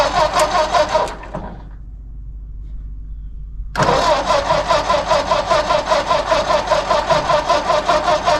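An old Ford diesel tractor engine turns over, falls quiet for a few seconds, then fires and settles into a loud, steady, close-up rhythmic chugging.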